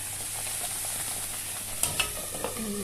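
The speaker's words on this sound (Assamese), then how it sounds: "সেইখিনি অকণমান ৰঙচুৱা হোৱালৈকে ভাজি থাকিব" Steady sizzling of a narsingha, mosundori and bhedailota leaf paste frying in a pan, with a few soft scraping stirs near the end and no voices.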